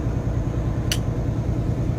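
Commercial truck engine idling steadily while parked for a DPF regeneration, a loud, continuous low rumble with a brief sharp hiss partway through rather than a clear rev-up.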